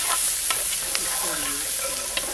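Onions saute in a big pot for a tuna casserole, giving a continuous close sizzle with a few stirring scrapes and no talking.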